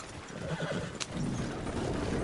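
A horse in Red Dead Redemption 2 whinnies loudly amid clopping hooves and a rough, noisy background, the neigh rising and falling over about a second.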